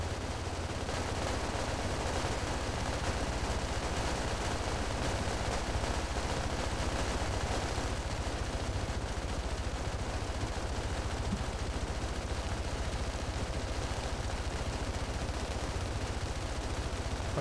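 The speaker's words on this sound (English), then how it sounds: "Hey Section, can we do a celebration shootout?" Sustained gunfire in a celebratory shootout, with dense continuous bursts of shots and automatic fire rattling loudly and without a break for the whole stretch.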